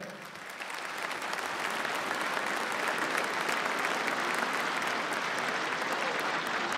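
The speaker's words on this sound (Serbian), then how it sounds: "jedan veliki aplauz za donatore" Crowd at a New Year cocktail reception in Jagodina applauding donors, a full, steady wave of clapping that swells in and holds evenly throughout.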